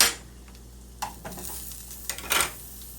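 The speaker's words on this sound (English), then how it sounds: "I'm gonna add Julio seasoning to the links" Sausage links sizzle faintly in a frying pan with a soft constant hiss, broken by a few sharp utensil scrapes and clinks against the pan near the start, middle and end.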